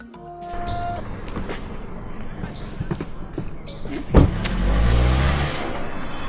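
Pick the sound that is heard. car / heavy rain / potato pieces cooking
car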